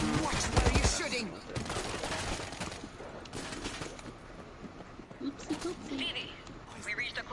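Gunfire from the World War Z zombie shooter game, bursts of shots and rapid fire crackling over a dense mix of game effects, with a heavy hit near the start and steady clatter throughout.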